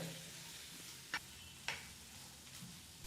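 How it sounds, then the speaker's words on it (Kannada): Finely chopped bottle gourd with other chutney ingredients frying in hot oil on a medium flame, giving a faint, steady hiss broken by a couple of sharp spoon clicks against the pan. "ಈಗ 1-2 ನಿಮಿಷಗಳ ಕಾಲ ಮೀಡಿಯಂ ಫ್ಲೇಮ್ನಲ್ಲೇ ಇದನ್ನೆಲ್ಲ ಫ್ರೈ ಮಾಡ್ಕೋಬೇಕಾಗತ್ತೆ"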